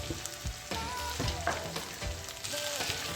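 Okra (bhindi) frying with masala on medium heat, giving a dense, steady sizzle with soft crackles and occasional gentle stirring, heard close and alone.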